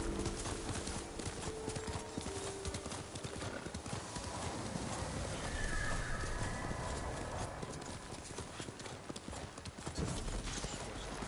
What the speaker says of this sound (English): I do like the horse charge.